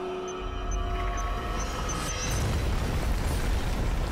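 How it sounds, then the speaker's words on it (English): An underwater mine explosion in the Mystery Case Files: Ravenhearst Unlocked game gives a loud, sustained low rumble that swells midway and keeps roaring, with faint high tones above it and no speech. "That was one of those underwater mines. If I had been a little closer to the explosion, I'd be resting in pieces now."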